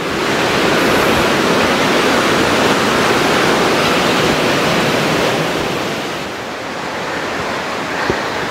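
Namaste Falls pours down in a dense, continuous roar of falling water, loud and steady from nearby, with no voices, easing slightly toward the end.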